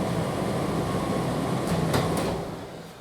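An Indesit or Hotpoint tumble dryer, newly fitted with a capacitor, runs with a steady broadband hum and rumble, with a couple of brief clicks near the end as the sound eases off.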